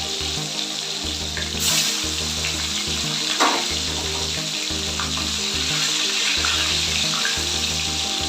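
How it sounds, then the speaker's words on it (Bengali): Freshly caught pond fish fry in hot oil, a loud continuous sizzle with crackling bursts filling the whole stretch, no voices. "তেলটা গরম হয়ে গেছে, এবার আস্তে আস্তে আমি মাছগুলোকে ভেজে নিচ্ছি।"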